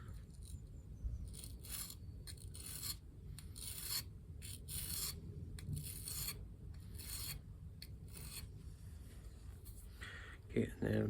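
A woodturning skew chisel is pressed against a running belt sander for sharpening, producing repeated rasping grinding strokes in regular bursts over a low motor hum, fairly close.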